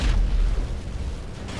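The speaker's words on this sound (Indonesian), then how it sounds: "Meledak." A loud explosion goes off in modded GTA 5 at an anti-zombie base, a sharp close boom at the start followed by a fading, rumbling tail, with no talking.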